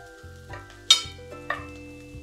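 Onions frying in a pan for Goan pork bone meat, giving a steady sizzle broken by scraping stirs and a couple of sharp spoon knocks against the pan.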